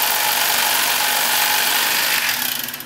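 Rapala electric fillet knife buzzing steadily as it slices through a rockfish near the tail, a close, continuous motorized whine with rough cutting texture that tapers off at the end.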